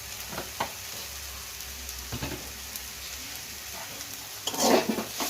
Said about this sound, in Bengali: এবার ভালো করে পুরটা একটু ভাজা ভাজা করে নেব।